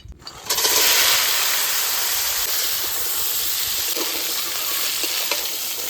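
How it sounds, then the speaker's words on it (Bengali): Crabs frying in hot mustard oil in a wok, a loud sudden burst of sizzle as they hit the oil, then a dense, steady close crackling hiss with no voices. "তেল গরম হয়ে গেছে এবার কাঁকড়াগুলো ভেজে নেবো"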